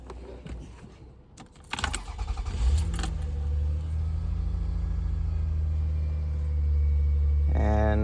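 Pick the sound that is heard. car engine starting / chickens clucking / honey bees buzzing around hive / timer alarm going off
car engine starting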